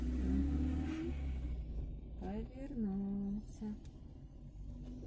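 Car engine rumbling low and steady from inside a moving car, with people talking over it.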